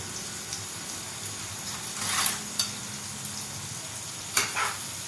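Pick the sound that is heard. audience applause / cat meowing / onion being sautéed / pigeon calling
onion being sautéed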